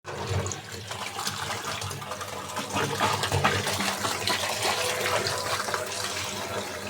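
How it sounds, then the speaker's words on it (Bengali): Tap water pours steadily into a sink as leafy greens are rinsed, a constant close splashing rush that lasts throughout without talking. "শাকগুলো এখন ধুয়ে নিব।"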